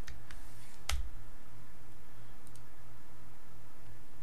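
A single sharp computer mouse click lands near the start, short and close, with faint low hum and a couple of softer ticks afterward and no talking.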